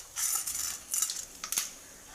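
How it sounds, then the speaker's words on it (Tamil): Chana dal goes into a pan of mustard seeds, giving short bursts of close, bright rattling and clinking as the lentils scatter and hit the metal, with quiet pauses between. "இப்போ நம்ம கடலைப்பருப்பு போட்டுக்கலாம்"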